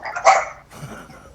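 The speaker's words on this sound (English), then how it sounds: "I apologize for the dogs." Dogs give one loud, close bark with a rough edge, followed by a lower growl, brief and unaccompanied by speech.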